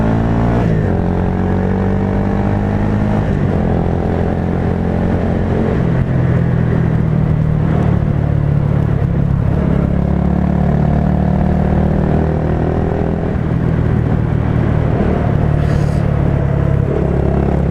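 A Honda MSX 125 motorcycle pulls away after a tight U-turn, its engine loud and near, droning steadily and rising and falling in pitch as it accelerates, with no speech.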